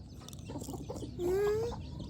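Chickens clucking while being fed in a rural village in West Sumatra: a single drawn-out rising cluck stands out above a busy, rustling outdoor background, with no clear talking during the call.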